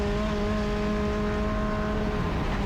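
A race car takes turn 4 flat out at Mosport, with a steady loud engine drone and a constant high whine running through the corner and no talk.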